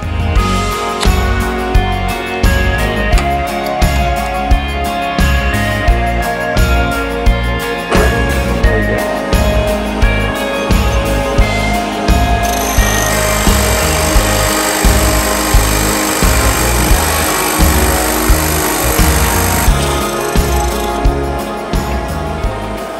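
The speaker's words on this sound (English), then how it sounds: "I like to use the Forstner bits because they cut better than the alternative, which is the hole saw." Forstner bit boring a 1¾-inch handle hole through a live edge walnut charcuterie board, a loud power drill whine with rhythmic pulses and cutting grind, close up with no talk.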